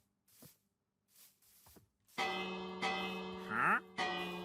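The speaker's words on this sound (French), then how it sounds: "Je vais taper la cloche" A bell is struck in Minecraft, ringing out in several sustained metallic tones that start and restart, preceded by a few faint soft sounds, fairly quiet overall.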